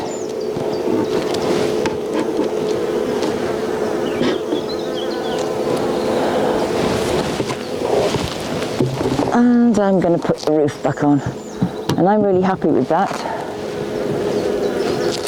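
Dense, steady buzzing of many honey bees close by at a hive, with someone talking over it throughout.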